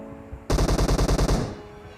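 Rapid automatic weapon fire in a shooter game: a sudden loud burst of about ten quick, evenly spaced shots that cuts off and rings out briefly, with no voices.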